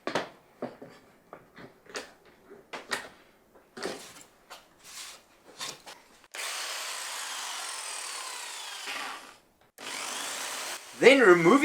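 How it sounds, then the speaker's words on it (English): A power drill bores through a wooden plank from its reverse side to finish a hole started with a pilot hole, a steady grinding whir lasting several seconds after a stretch of short clattering knocks, then a second brief burst. "then flipping the workpiece over and drilling the other half from the other side"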